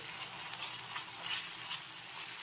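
Ginger-garlic paste and spices fry in a pan for chicken pulao, a steady bright sizzle with soft scraping swells as the mixture is stirred.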